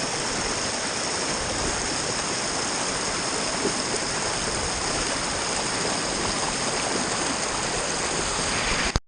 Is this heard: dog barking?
no